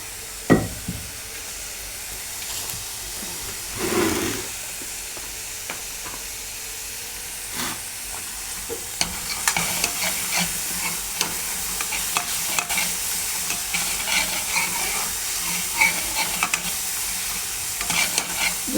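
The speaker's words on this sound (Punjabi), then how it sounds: "ਤੁਸੀਂ ਦੇਖ ਸਕਦੇ ਹੋ ਮਸਾਲਾ ਆਪਣਾ ਭੁੱਜ ਚੱਲਿਆ" Masala spices frying in a hot pan with steady sizzling and hiss, interrupted by repeated scraping and stirring strokes of a spoon that grow busier and more frequent toward the end, close and loud with no talking.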